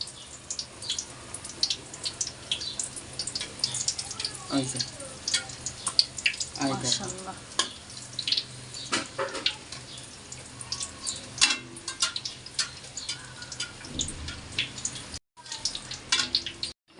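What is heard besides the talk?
eggplant fritters (beguni) frying in oil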